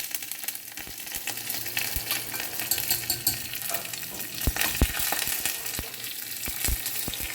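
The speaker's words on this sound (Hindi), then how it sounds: "तो तेल यहाँ पे गर्म हो चुका है। अब इसमें डालते हैं सासवा, कड़ी पत्ता," Mustard seeds, curry leaves and chili sizzle and crackle steadily in hot oil while a tempering for cucumber raita is made, with occasional louder pops over the constant frying hiss.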